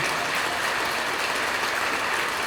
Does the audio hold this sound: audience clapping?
yes